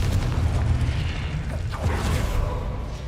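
The Confringo fire spell goes off in the Hogwarts Legacy video game as a dense, loud rumbling blast that roars steadily through the whole stretch, with whooshing edges and no speech.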